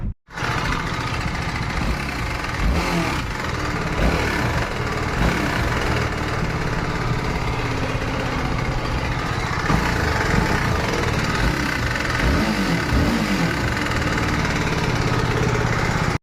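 A TVS Apache RR310 motorcycle engine, just repaired after its camshaft timing was reset, runs steadily at idle with a continuous, even mechanical hum that holds alone and close for the whole stretch.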